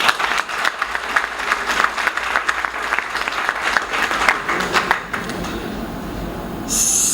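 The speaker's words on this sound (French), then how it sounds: "Je vous demande d'applaudir." Audience applause at a West African energy drink product presentation, a dense burst of clapping for about five seconds that then stops, leaving a quieter room tone.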